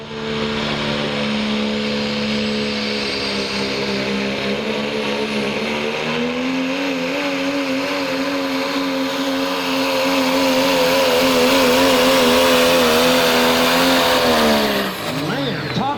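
A diesel pickup truck at a truck pull roars with a loud, sustained engine rev, its pitch climbing and holding high under strain through the pull before dropping off near the end.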